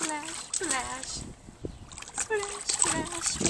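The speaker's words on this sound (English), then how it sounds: "Splash, splash, splash. You want a splash?" Water splashes close by in a small inflatable baby pool as a young child plays, with bursts of splashing and dripping between an adult's repeated sing-song talk.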